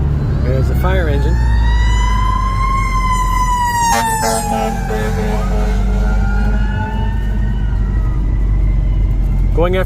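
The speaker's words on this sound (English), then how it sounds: "There's the fire engine" A fire engine siren wails loudly from close by, its tone sweeping up and down and then shifting to a different pattern, over a car's steady engine and road noise.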